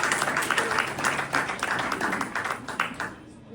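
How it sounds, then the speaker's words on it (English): Audience applauding at an Ohana tiki luau by the lake, a dense wash of clapping from many hands that carries on steadily, with faint voices mixed in, then cuts off abruptly near the end. "you should give yourselves a round of applause"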